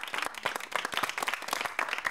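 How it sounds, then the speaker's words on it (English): Scattered, lively clapping from a classroom audience during a lower secondary mathematics lesson, a short burst of uneven individual claps close by, with no talking over it. "Give the man a round of applause."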